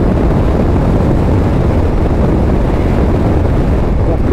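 Strong crosswind buffeting a motorcycle as it crosses a bridge leaving Narvik, Norway: loud, continuous low roaring wind noise on the microphone with steady rumble, no talk.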